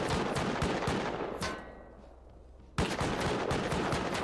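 An automatic turret in the Rust video game firing rapid bursts of gunfire, loud and close, cutting out into a brief lull before a renewed burst of shots.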